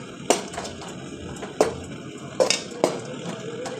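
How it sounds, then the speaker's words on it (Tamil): Rice flour being stirred into water in a cooking pot, giving a few sharp scrapes and clinks of a spoon against the pot, spaced irregularly, close and moderately loud. "இந்த தண்ணியிலேயே போட்டு நல்லா மிக்ஸ் பண்ணிக்கலாம்."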